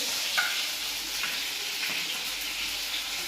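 Green chillies frying in hot oil for a sabudana dish, a dense continuous sizzle with faint stirring ticks, steady and close without voices.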